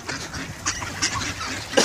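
Ducks and gulls squabbling over bread outdoors, a run of short quacks and squawky calls close by, with a louder burst at the end.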